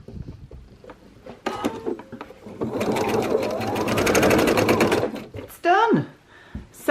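A sewing machine shirring the waistline of a Sagebrush dress runs in a fast continuous stitching whir for a couple of seconds, with short bursts before and after and light handling noises around it.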